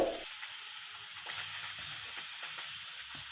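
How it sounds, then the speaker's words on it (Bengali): Tilapia fish fries in oil in a pan, a soft, even hiss and sizzle after a brief bump at the start, faint and continuous with no talk. "আবার একটা ভাজছি"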